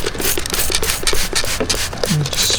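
Cleaner sprays in rapid, repeated hissing bursts onto a dirty ATV foam air filter, close and loud, with a steady pulsing rhythm and no talking.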